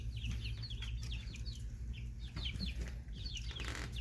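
Six-week-old Blue Star chicks on a family farm make a steady stream of soft chirps and clucks, many small peeps overlapping at close range above a low, constant background hum.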